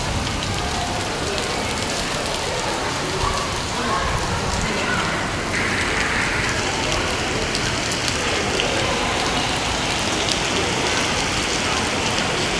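Dense, steady heavy rain with lightning hisses and patters without a break, loud and close, continuing evenly throughout.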